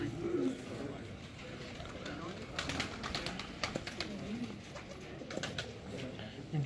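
Breeder pigeons on a rooftop coo softly in repeated low throaty phrases, fairly near, amid light rustles and flutters, with a voice speaking now and then.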